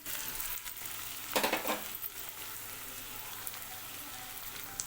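Sliced onions fry in a pan until golden for a boneless chicken gravy, a steady low sizzle with a short burst of stirring scrapes partway through.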